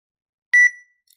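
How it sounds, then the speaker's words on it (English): A single short electronic beep marking the end of a PTE Academic speaking-test recording time, clear and bright, sounding alone in silence and fading quickly. "there will be beep sound once your time is over"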